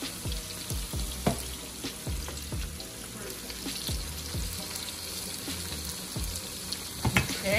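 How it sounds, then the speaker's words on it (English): A creamy white wine seafood pasta sauce with shrimp coming to a slight boil, a continuous sizzling and bubbling hiss with occasional clinks and soft knocks in the pan. "this is coming to a slight boil here"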